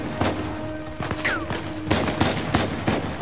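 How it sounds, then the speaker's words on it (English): Gunfire in a first-person video game: rapid bursts of shots, some overlapping, loud and close, with a brief whistling streak partway through. "I'm just shooting blindly"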